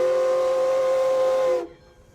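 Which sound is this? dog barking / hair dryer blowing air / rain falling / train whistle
train whistle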